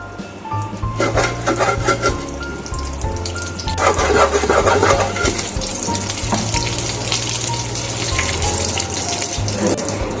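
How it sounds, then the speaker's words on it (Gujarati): Mustard seeds and cumin sizzle in hot oil for a tricolour dhokla tempering. A loud, continuous close-up hiss with crackling spits swells around the middle and then holds steady. "એકદમ સરસ રાઈ ને જીરું ને પહેલા આપણે સાતળવાના છે."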